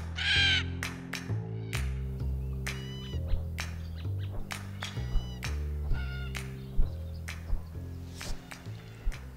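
A bird at a riverbank gives repeated loud, harsh crow-like caws in a series of bursts, close by, over a sustained musical drone in the background.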